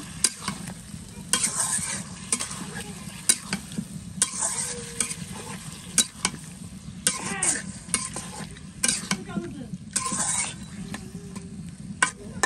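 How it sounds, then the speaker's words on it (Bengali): Food being stirred and sautéed in a pan on a home stove, with a steady low sizzle under repeated scraping strokes of a utensil against the pan, close and continuous, with no one talking. "এটাকে ভালো করে কষাইয়া নেব"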